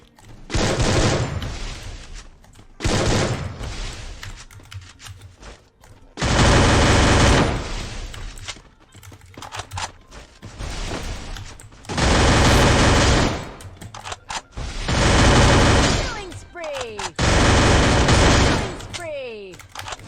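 Gunfire in the shooter game Free Fire, with an M14 rifle, comes in loud repeated bursts of rapid shots, several seconds long with short gaps between them. A player shouts excitedly over the shooting.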